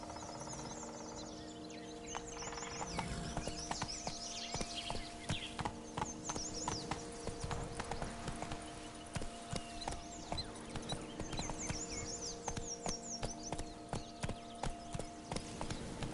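A horse ridden at a steady pace in The Witcher video game, with even clip-clop hoofbeats continuing throughout, close and clear, while faint birdsong and ambient tones sit in the background.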